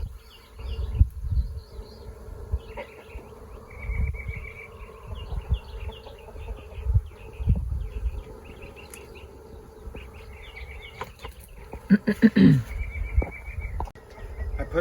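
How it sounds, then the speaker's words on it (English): Honeybees buzz around an open hive during an inspection, a steady close swarm drone that swells and fades with occasional handling knocks and rustles. "The bees are getting upset."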